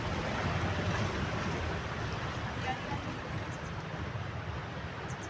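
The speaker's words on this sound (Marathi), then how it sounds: "खडकांमध्ये लाटा उसळत आहेत" Sea waves surge and break against rocks along the Murud shoreline, a dense, steady roar of surf with no voices over it.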